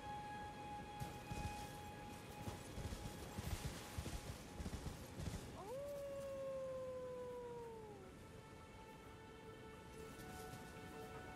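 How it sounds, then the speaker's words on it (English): A creature in the video game Elden Ring lets out a loud, drawn-out howl that rises sharply and then slides slowly downward over about two seconds, standing out above a busy layer of game music and ambience. "Who's howling from where?"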